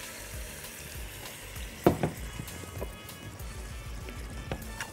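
Steady sizzling of liver frying with tomato sauce in a pan, with a couple of louder clinks of a utensil stirring partway through.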